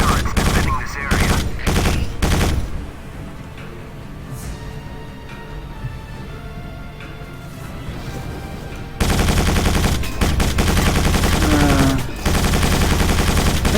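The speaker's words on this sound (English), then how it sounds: "we're going to circle around this complex until I can kill all the turrets" Heavy gunfire in the video game Quake 4 as turrets are shot, with dense rapid bursts and booming shots, a quieter stretch of rumbling action, then sustained loud automatic fire.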